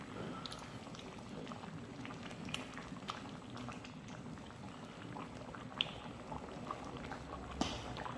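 Lentil dal with coriander and ginger simmering on low heat, a continuous soft bubbling and popping with scattered small ticks, steady and fairly quiet throughout.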